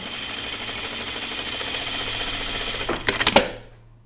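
A sewing machine runs steadily, stitching fabric for a caftan dress, its motor humming at an even pace before a burst of loud clacking as it stops, followed by silence.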